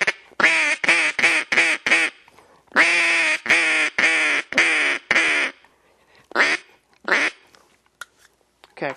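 Flaherty duck game call blown in a series of loud, raspy quacks: a fast run of five short notes, then four longer ones, and a couple of separate quacks trailing off, alone and close.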